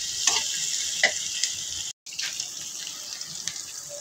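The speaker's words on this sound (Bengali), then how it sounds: "তারপর এটাকে মাংসটার সাথে ভালো করে মিশিয়ে আমি এটাকে পেঁয়াজটাকে একটু ভেজে নেব" Onion and green chili frying with meat for Korean ramen, a steady bright sizzle with a few scraping stirs and a brief gap partway through, close and unaccompanied by voices.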